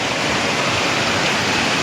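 A river flowing in a steady, loud rush of water, a dense continuous wash of noise without breaks or voices.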